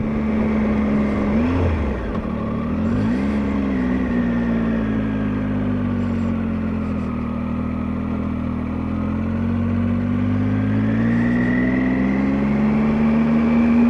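A 2018 Triumph Tiger 800 XRT motorcycle pulling away in first gear on a Highland road, the engine droning steadily with rising and falling revs, loud and close with wind noise.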